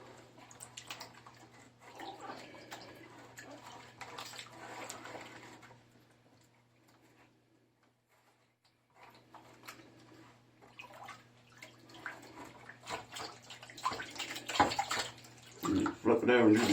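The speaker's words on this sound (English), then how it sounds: "Splash it around a little." Water sloshes and splashes in a tub as sluice mats are washed. Bursts of wet churning come in two spells with a quiet pause between, and a voice is heard nearby.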